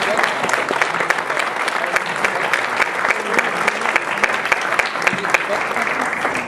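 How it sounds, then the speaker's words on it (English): Loud, full audience applause for the IDR at an awards day, a thick continuous wash of many hands clapping close by, with voices mixed in underneath. "give a huge round of applause to the IDR"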